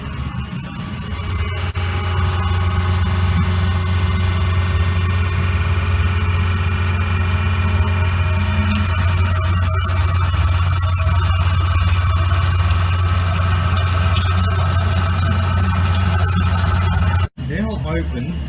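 Fat separator pump on a commercial oven runs with a steady low mechanical hum and faint rattling vibration, continuous and close, cutting out briefly near the end; someone talks over it.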